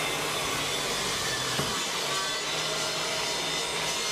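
A saw cuts a piece of wood fed with a push stick, a dense continuous whine and rasp that holds steady and loud for a few seconds at close range.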